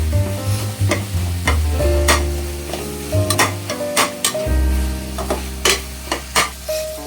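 Onions and tomatoes sautéing in a pan for prawn thokku, loud close stirring with repeated spatula scrapes and clinks against the pan over a continuous sizzle and a low background hum.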